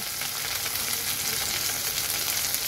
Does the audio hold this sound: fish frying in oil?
yes